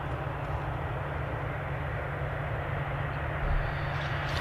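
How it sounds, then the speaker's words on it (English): An EasyJet airliner taxis at Manchester Airport, its engines a steady, broad, even roar heard from a distance with no breaks, and no one speaking. "EasyJet on the move."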